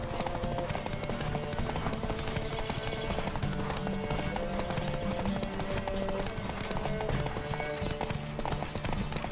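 Horse hooves galloping in The Witcher 3: Wild Hunt in a fast, continuous rhythm, set within a dense, busy mix of music and background sound.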